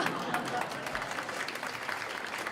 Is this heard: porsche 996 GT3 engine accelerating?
no